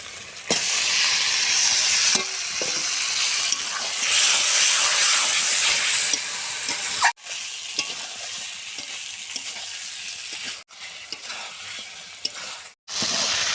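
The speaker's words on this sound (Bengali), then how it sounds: "সুন্দর করে কাঁচা টমার পেঁয়াজটা আমার ভাজা হয়ে গেছে, কষানো মাংসটা আমি ঢেলে দেব" Sautéed mutton tipped into a pan of frying onions and green tomato, hissing in a loud, continuous sizzle with spoon scrapes; it eases off partway through and cuts out briefly twice, heard close up.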